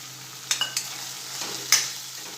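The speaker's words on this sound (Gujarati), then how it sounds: "હવે એમાં આપણે આ વટાણા એડ કરી દઈશું।" Green peas being stirred into softened cooked vegetables in a hot pan for Rajwadi pulao, a soft steady sizzle broken by a few sharp scraping clinks of a spoon against the pan, with no talking.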